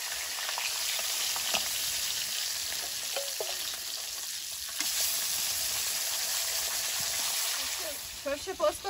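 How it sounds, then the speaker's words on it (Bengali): Pabda fish fry in hot oil with green chillies and turmeric, a steady loud sizzle and crackle close up, with occasional stirring clinks and utensil scrapes near the end. "এই মাছগুলো ভাজা হয়ে গেছে, তুলে নেব, নিয়ে বাকিগুলো ভেজে নেব"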